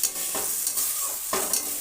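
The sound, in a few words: stir-frying elephant foot yam stalks and potatoes with spices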